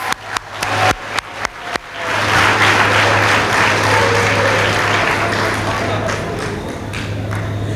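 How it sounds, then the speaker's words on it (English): Graduating students at a secondary school graduation ceremony give themselves a round of applause: a few separate claps first, then a broad sustained wave of clapping from a large hall crowd over a steady hum. "give yourself a round of applause"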